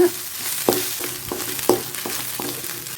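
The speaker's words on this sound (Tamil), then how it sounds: "அதை இப்போ உள்ளே போட்டுடலாம். நல்லா கலந்து விட்டுக்கலாங்க." Soft sizzling in a pan with rhythmic scraping strokes as rice noodles are stirred with lemon, turmeric and salt, several distinct stirs spaced about a second apart, fairly quiet.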